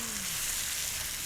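Chicken stroganoff boiling and sizzling hard in a pan on a single ring, a steady close hiss of frying with no pauses.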